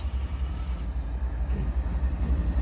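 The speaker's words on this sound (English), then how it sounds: "the power is moving in the clear for the Tropicana assigned switcher, yet another CSX GEVO, to bring out the loaded cars" CSX GE GEVO diesel locomotives move along the track near the Tropicana plant in Tampa, Florida, giving a low, steady, throbbing engine rumble with a faint pulsing rhythm and no talking.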